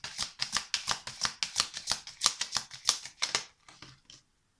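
Tarot cards riffled and shuffled in a quick run of crisp, papery flutters, close and fairly quiet, slowing to a few soft taps before stopping.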